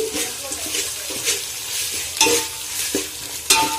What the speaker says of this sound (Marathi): पेस्ट टाकायची आहे इथं, तर आपल्याला हे हलवून घ्यायचं आहे मस्त।